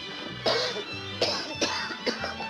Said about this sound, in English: we're coughing better tonight